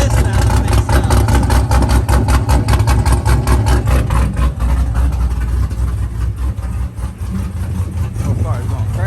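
A built 416 stroker LS3 V8 idles loudly up close with a lumpy, pulsing rumble, steady uneven beats through the first half before settling into a smoother, slightly quieter idle; a person talks briefly over it.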